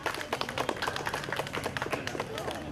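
An audience claps at a stage ceremony during a Pongal celebration, with irregular, moderately loud hand claps from a small crowd while a voice speaks over the clapping.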